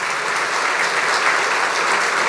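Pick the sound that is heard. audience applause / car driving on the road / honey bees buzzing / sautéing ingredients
audience applause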